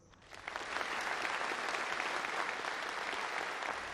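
Audience applause swells in within the first half second, then holds as a steady, dense patter of many clapping hands at a moderate level until the end.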